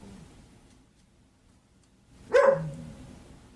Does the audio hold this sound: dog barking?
yes